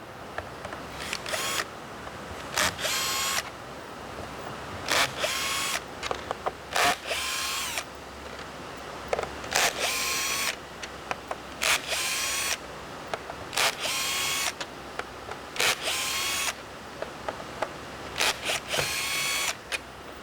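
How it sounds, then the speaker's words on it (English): A power drill backs screws out of a bed extension in repeated short whirring bursts, each a few seconds long with clicks and brief pauses between, close and fairly quiet with no talk. "we're now going to remove these screws all right here"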